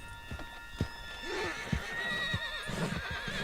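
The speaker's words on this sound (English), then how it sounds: "Put Strauss on the back of John's horse and let's get out of" A horse in the video game Red Dead Redemption 2 whinnies loudly, its wavering call ringing over a string of clip-clopping hoofbeats.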